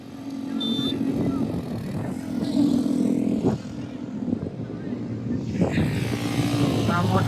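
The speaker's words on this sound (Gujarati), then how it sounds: "જો અહીંયા બાઇક રાઈડ કરે છે." Motorbikes ride along the sand at Suvali beach near Surat, engines droning steadily under constant wind and crowd noise, with people talking nearby throughout.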